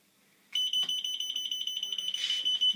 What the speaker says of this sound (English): the buzzer rings and it latches on